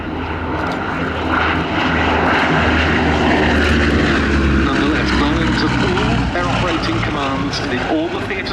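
Bristol Blenheim piston-engined propeller aircraft at an air show, a loud droning engine roar that swells and shifts in pitch as it passes, while a commentator talks over it.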